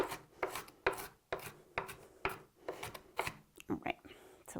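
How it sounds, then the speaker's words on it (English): A knife roughly chopping onion on a board for a fresh corn salad, with repeated sharp cuts landing in an irregular rhythm, close and fairly loud. "I'm just going to take the knife and kind of run it over the onion and give it a rough chop"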